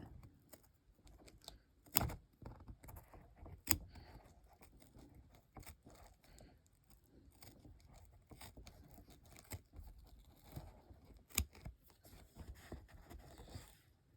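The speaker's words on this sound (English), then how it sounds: "I'm going to make a small incision here, and I'm going to start trimming it out." Scissors trim embroidery stabilizer next to a zipper, giving quiet, close snips and crisp crinkles scattered irregularly over a soft rustling background, with a few sharper cuts standing out.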